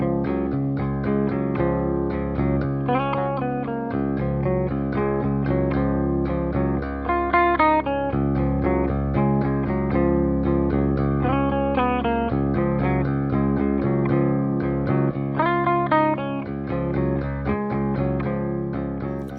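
Electric guitar played through a PastFx Kurt's Cologne chorus pedal on its subtle 70s setting, giving a glassy clean tone with gentle shimmer; sustained chords and picked notes ring continuously and close, with no talking.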